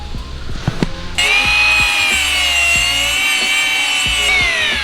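A power tool grinds and saws through a metal tube, notching it for a Maserati engine mount in a Porsche 911: a steady, loud, sustained whine after a few short knocks, with rhythmic thumps running under it.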